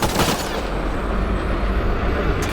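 Gunfire in the video game Mass Effect: dense, loud, continuous bursts of automatic weapon fire and impacts, filling the whole stretch without pause.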